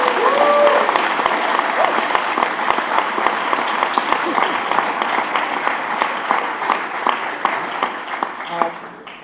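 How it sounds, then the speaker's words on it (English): A large crowd at a leadership forum applauding steadily, dense clapping sustained and loud for the whole stretch, easing slightly near the end. "So let's give a round of applause for our hometown girl, Ashley Pelzek."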